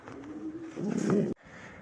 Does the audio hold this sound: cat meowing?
no